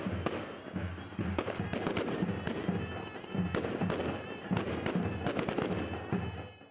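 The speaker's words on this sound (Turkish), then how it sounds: "Kutlamalar havai fişek gösterileriyle son buldu." A Republic Day celebration closes with a fireworks display: repeated sharp bangs and crackling bursts, dense and loud, overlapping throughout with a crowd's voices and cheering mixed underneath.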